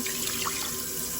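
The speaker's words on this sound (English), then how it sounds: "now I'm gonna add 4 cups of water" Water streams steadily into a pot of freshly rinsed rice for a Southern rice pudding, a continuous close splashing pour with no talking.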